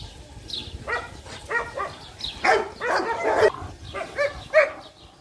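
A Saint Bernard dog barks in a close run of short barks and yips, some with a whining edge, spread irregularly over a few seconds.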